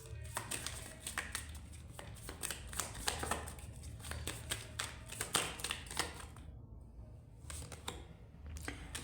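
Tarot cards being shuffled and handled in dense bursts of papery flicks and riffles, close and moderately loud, with a short quiet gap near the end and no talk over it.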